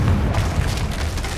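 A Confringo blasting curse goes off in the Hogwarts Legacy video game with a brief, dense booming blast that rumbles through its full length at moderate loudness.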